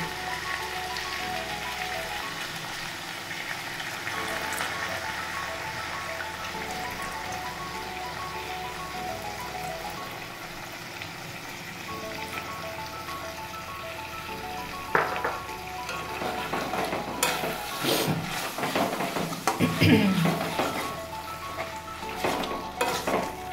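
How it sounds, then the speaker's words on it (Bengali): Water splashes into a hot pan of melting cheese with chilies, capsicum and onions, setting off a steady sizzle that swells louder near the end, with a few scrapes and clinks of a utensil against the pan. "এবারে যেটা করব, অল্প একটু জল আমি এর মধ্যে দিয়ে দেবো।"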